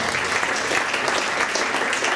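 Brief audience applause at a speed-reading seminar: dense, even clapping from a crowd, close and sustained without a break.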